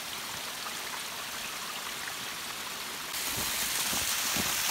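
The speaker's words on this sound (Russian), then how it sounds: "И снова водопад." Waterfall in an Alpine gorge, a steady broadband rush of falling water that holds constant throughout and grows slightly louder toward the end.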